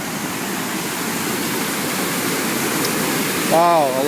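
Lester River in flood in Duluth, rushing water as a loud steady roar of broadband noise, with a person speaking briefly near the end.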